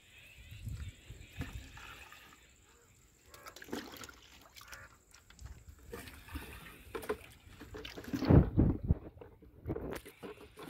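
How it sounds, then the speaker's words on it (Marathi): Water is poured into a barrel while a Bordeaux mixture is prepared for pomegranate and grape orchards, about 180 to 185 litres in all. A brief, heavy splashing gush stands out near the end over steady background noise and faint talk. "हे सर्व पाणी आता या बॅरलमध्ये टाका"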